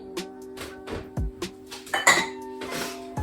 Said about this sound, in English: We mix together. And then oil.